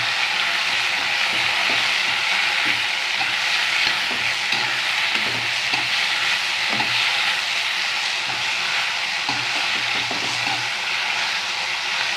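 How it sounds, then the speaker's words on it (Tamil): Mudakathan greens stirred and sautéed in a hot pan, a steady loud sizzle with soft scraping strokes of the spoon recurring throughout, close up and with no speech. "முடக்கத்தான் கீரையை போட்டுக்கலாம் நல்லா கிண்டி வச்சுக்கணும்"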